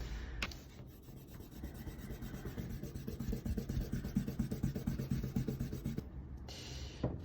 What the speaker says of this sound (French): on peut gommer le crayon